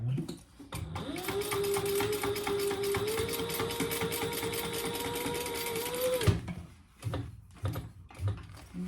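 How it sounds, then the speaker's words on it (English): A sewing machine runs a top stitch in one steady, loud burst of about five seconds, its motor hum rising and holding before stopping, followed by handling noises and a few soft knocks. "We're gonna pull our pieces together and do a top stitch right there."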